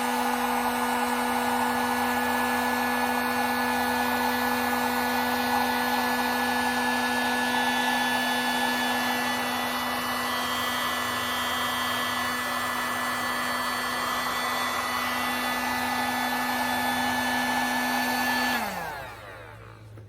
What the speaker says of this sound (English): Now that I got my handy dandy heat gun here